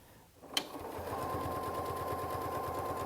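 A sewing machine starts with a sharp click, then runs a steady straight stitch close to the fabric edge, an even rapid needle thump over a constant motor whine, fairly close and alone.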